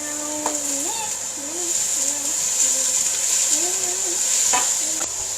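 Carrots, onion and other vegetables stirred in a cooking pan, a steady sizzle with scraping spoon strokes throughout, close by, with a high constant hiss and faint voice-like tones in the background.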